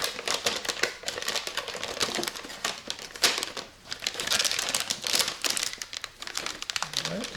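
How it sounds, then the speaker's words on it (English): Plastic trim is pried and pulled off the dashboard of a Daihatsu Hijet, a dense run of close crackling, clicking and creaking snaps, no talking. "First, let's get this plastic off up here."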